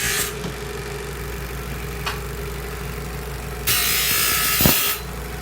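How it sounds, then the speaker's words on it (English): Hacksaw cutting through a golf club shaft wrapped in tape, a steady mid-level rasping stroke that runs continuously, with a brief louder burst of harsher sawing near the end and a sharp knock just after. "You're going to wrap it in tape and then use a hacksaw to do it that way."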